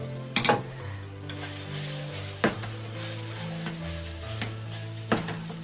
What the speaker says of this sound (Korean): 이대로 이제 먹어도 됐다 싶을 때 면이랑 면수 같이 넣어주고요